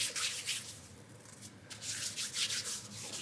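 Hands rubbing hand sanitiser together, a steady close-up swishing friction with rhythmic surges, fairly quiet and without talking.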